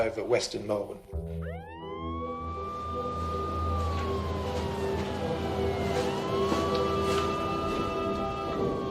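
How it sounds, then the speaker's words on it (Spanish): Ambulance sirens wailing in Melbourne, a long rising and falling tone that swells in after a brief burst of other noise and holds steady, fairly loud and moderately distant, with voices underneath. "podías oír en Melbourne las sirenas de las ambulancias"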